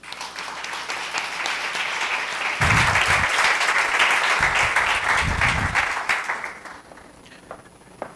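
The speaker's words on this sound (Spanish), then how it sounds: "Por favor, recibámoslo con un fuerte aplauso." Loud, sustained applause from a large crowd welcoming a speaker at an artificial intelligence lecture, many hands clapping steadily for several seconds before thinning out and fading.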